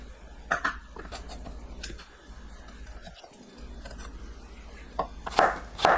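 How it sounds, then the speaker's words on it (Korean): Knife cutting a bell pepper into 1 cm strips on a cutting board, a handful of crisp chopping strokes spread irregularly through a quiet kitchen, with a louder burst of quick cuts near the end. "파프리카를 1cm 두께로 썰어주세요."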